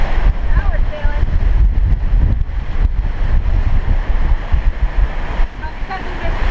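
Sailboat pushing through rough Caribbean seas in strong wind of about 30 knots, a constant loud roar of wind buffeting and waves rushing against the hull with low rumbling surges, no talk.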